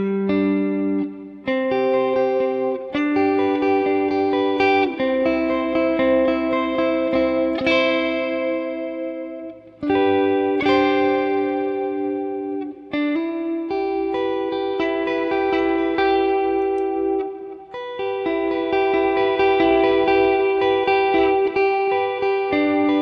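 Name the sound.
electric guitar played through ToneX One with reverb effect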